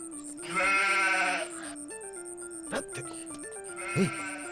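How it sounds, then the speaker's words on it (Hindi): A goat bleats loudly in a long wavering cry, then again shorter near the end, over a faint steady musical tone and scattered background sounds. "बकरी की चिल्लाने की आवाज आ रही है"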